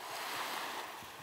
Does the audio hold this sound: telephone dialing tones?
no